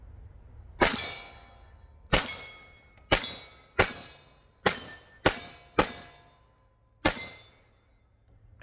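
A stainless Sig 1911X .45 pistol fires eight sharp, loud reports at an uneven pace, each shot cracking hard and ringing off briefly before the next.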